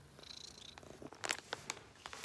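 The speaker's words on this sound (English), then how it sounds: "If you can hear the purring, that's Sassy" A cat purrs softly close by in a quiet leather studio, a low faint rumble overlaid with a few small clicks and rustles.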